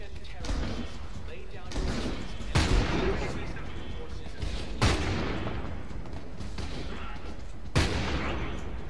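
Gunfire in the shooter game Homefront: The Revolution: a few sharp, loud shots spaced several seconds apart over a dense, continuous backdrop of combat noise and speech.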